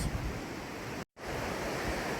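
Raging river rushing beneath a rope bridge in a forest, a loud, continuous broadband roar of churning water broken by a brief cut near the middle.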